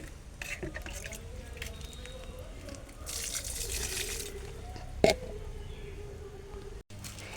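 Homemade liquid fertilizer splashes and trickles onto potted plants. The pouring is close and wet, with drips and one sharper splash near the end. A voice speaks faintly underneath.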